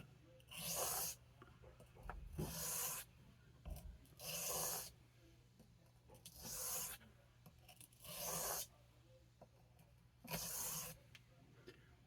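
Light strokes sharpening a vintage Rough Ryder RR1287 pocket knife on a stone, six evenly spaced rasping swipes, each about a second long, with quiet gaps between, close and soft.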